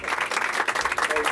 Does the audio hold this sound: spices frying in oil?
no